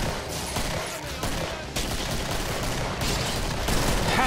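Rapid gunfire from hand cannons in the co-op shooter Killing Floor, loud and dense bursts of shots overlapping continuously at close range with a busy game mix behind.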